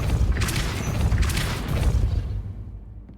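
A Depulso spell impact in Hogwarts Legacy lands as a heavy, booming burst with rumbling debris, then dies away to quiet within about three seconds.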